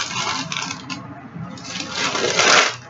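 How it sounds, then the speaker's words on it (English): Paper wrapping is pulled and crumpled off engraved gift boxes, giving a steady, close, loud rustling and crinkling that swells toward the end. "I'm gonna take the papers off"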